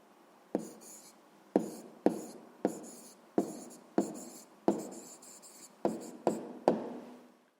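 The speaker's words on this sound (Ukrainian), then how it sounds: "Так, записуємо відповідь." A pen writing an answer by hand for a sixth-grade maths exercise: a quick series of close, crisp scratching strokes, each starting with a small tap, about a dozen in irregular succession.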